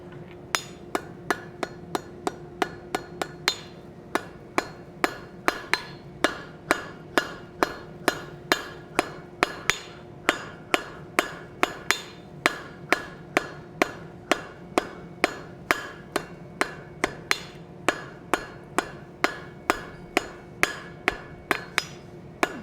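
Hot steel rose stem hammered over an anvil horn during forging, a long steady run of sharp ringing metallic blows in even rhythm, loud and close with no talking.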